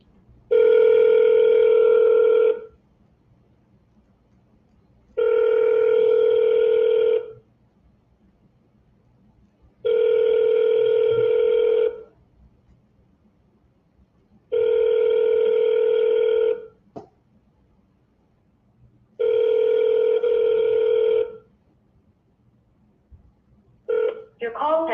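An outgoing phone call rings unanswered with five long, evenly spaced ring tones separated by silences before it forwards to voicemail, clear and moderately loud.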